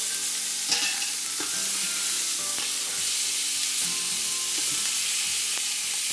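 Steak sears in an Instant Pot pressure cooker with a steady, close sizzle, punctuated by a few sharp crackles and pops and the scrape of turning the meat.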